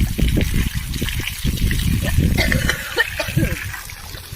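Water sprayed from a hose onto the roof of a new house, a steady splashing trickle with pattering drops. It runs close and continuous under a voice.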